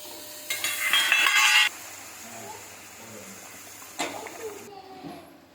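Tomatoes dropped into a hot pan hiss loudly for about a second, then soft stirring and occasional utensil clinks follow under a low background hum; close and moderately loud.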